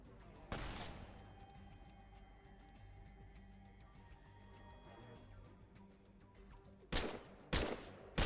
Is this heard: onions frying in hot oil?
no